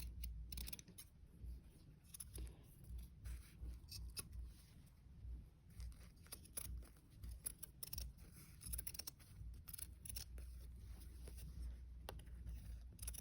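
A pair of scissors trims the edge of Aida cloth for a cross stitch project, giving faint, close, irregular snips and crisp clicks over a low background rumble.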